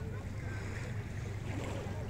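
Sea waves wash steadily at Banana Beach in Chalkidiki, Greece, a constant broadband surf hiss with wind buffeting the microphone and a faint boat engine rumble beneath, no talk heard.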